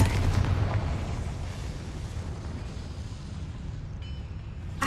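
The Confringo blasting spell in the Hogwarts Legacy video game erupts in a loud, rumbling explosion with a dense low boom that decays gradually over several seconds.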